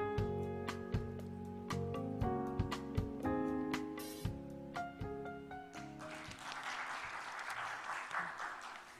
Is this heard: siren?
no